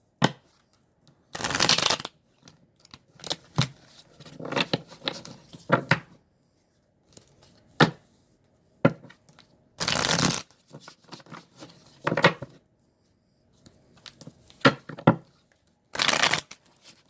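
A deck of cards being shuffled, with loud riffling bursts of a second or so recurring every few seconds, separated by softer card taps and handling noises, close up and without speech.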